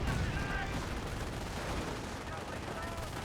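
Artillery barrage in the real-time strategy game Company of Heroes, a dense continuous rumble of distant shelling and gunfire under ongoing battle noise.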